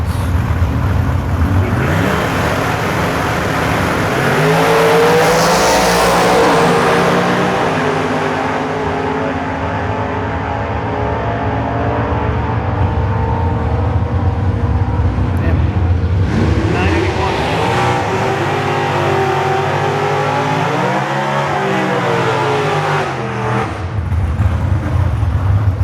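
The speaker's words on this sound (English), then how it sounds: "Some rare super stock trucks." Super stock race trucks at Beech Bend drag strip, engines roaring loudly and steadily with rising revs and a pass-by swell, continuous throughout under crowd noise, with some speech mixed in.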